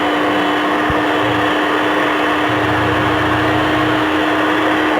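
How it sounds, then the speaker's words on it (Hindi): An electric mixer beats eggs into cupcake batter with a loud, steady motor whir and hum that runs unbroken throughout, with a single brief knock early on. "और अब दूसरा अंडा हमारा और उसको अच्छे तरीके से बीट करेंगे"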